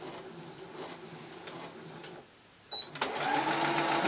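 A sewing machine zigzag-stitches across the top of a fabric chicken toy, giving quiet rhythmic ticking runs that pause briefly and then resume as a louder, faster whir.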